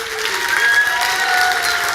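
Brief burst of audience clapping and light cheering at a Richelieu stage show, dense applause filling a hall with a faint tonal hum beneath it.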